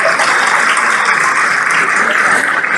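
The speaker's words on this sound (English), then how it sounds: "Please, let's give her another round of applause." Steady, dense applause from a large audience at a freedom awards banquet, loud and sustained throughout with no let-up.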